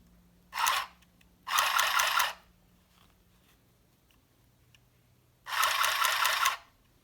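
A Singer handheld sewing machine stitching fabric runs in three short buzzing bursts, the first brief and the next two about a second long each, close and loud against a quiet room with no talking.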